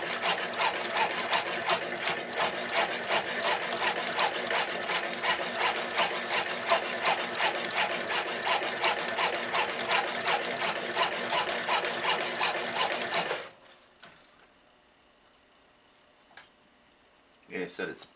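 A fine Swiss jeweler's saw blade cuts 01 tool steel with a fast, even rasping stroke, close and steady for about thirteen seconds before it stops, followed by quiet handling noises.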